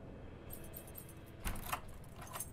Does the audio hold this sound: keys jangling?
yes